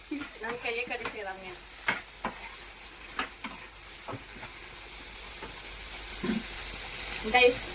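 Onions frying in oil for egg biryani, a soft ongoing sizzle with intermittent clinks and stirring scrapes of a ladle, while people talk over it.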